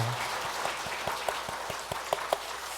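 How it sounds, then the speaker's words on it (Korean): Congregation applause during a missionary commissioning church service, a soft, diffuse patter of many hands under a few distinct, rhythmic claps that grow more pronounced toward the end. "우리 하나님께 다시 한번 감사와 영광의 박수 올려드리겠습니다"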